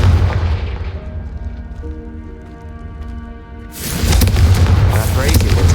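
Confringo fire spell in a Harry Potter video game: a spoken incantation and a humming, tonal buildup give way to a loud, sustained roaring explosion near the end.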